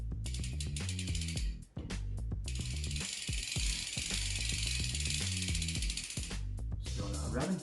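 A ratchet tightening the crank bolt on a SRAM Descendant Carbon bicycle crankset makes quick, close, repeated clicking strokes with brief pauses, plus a louder burst of ratcheting in the middle.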